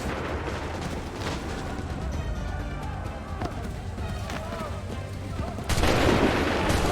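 In Assassin's Creed 3, a musket volley fires amid steady battle din with scattered cracks and thuds, ending in a louder, denser burst of gunfire near the close. Voices are heard throughout.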